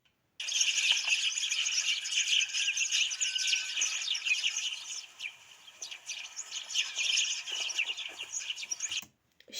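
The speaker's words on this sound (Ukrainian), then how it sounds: "Так, правильно, це наш горобчик." A sparrow chirps steadily and busily, bright rapid calls close by, continuing for several seconds before stopping abruptly.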